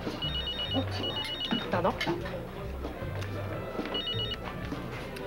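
Telephone ringing with short repeated electronic trills in two bursts, close and fairly loud, while a person speaks briefly between the rings.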